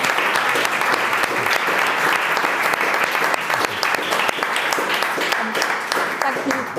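Sustained applause from a conference audience at a public infrastructure policy panel, dense steady clapping filling the room for several seconds, with a faint voice beneath.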